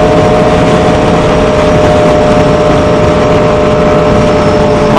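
Roughly a hundred motorcycles from a riders' group idle together in Georgia, producing a loud, constant, dense engine drone with layered mid-range rumble and no pauses.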